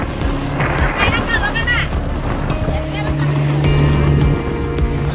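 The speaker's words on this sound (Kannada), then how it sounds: "ಬೋಟ್ ರೈಡಿಂಗ್, ರಾತ್ರಿ ಹೊತ್ತಲ್ಲಿ ಪ್ರಶಾಂತವಾಗಿ ಹರಿಯೋ ಸಮುದ್ರದ ಮಧ್ಯೆ" A boat motors across the sea at night off Goa, with rumbling engine and wash of water underneath as people chatter and call out nearby.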